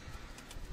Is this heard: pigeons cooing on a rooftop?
yes